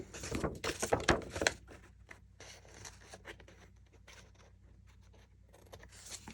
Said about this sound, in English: I'm just going to take my scissors and just trim off